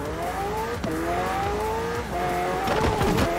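Car engine revving in the video game Forza, played with a paper plate as the controller, with a steady rising and falling motor whine and brief shifts, ending in a rougher, skidding burst.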